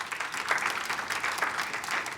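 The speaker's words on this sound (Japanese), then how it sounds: "皆様、今一度大きな拍手をお送りください" Audience applause at a food-culture session of the Osaka-Kansai Expo, a steady, even wash of many hands clapping that holds at a moderate level for a couple of seconds, with no voices on top.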